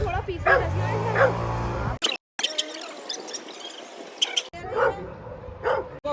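A dog in a village barks, yips and whimpers repeatedly at close range, loud and excited, with voices talking around it.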